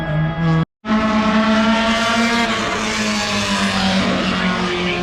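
A 1992 Honda Prelude race car, number 106, runs on the racetrack into turn one at a Wacky Wednesday event. Its engine drones loud and close with a steady, sustained pitch after a brief cut at the start.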